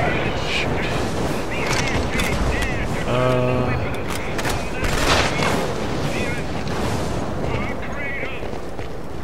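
Gunfire from the PlayStation 3 shooter Killzone 2, with repeated bursts and blasts mixed into dense game noise, while a player talks over the action.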